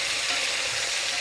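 Garlic fries in a pan with a steady, dense sizzle that fills the whole moment, loud and close with no talking over it.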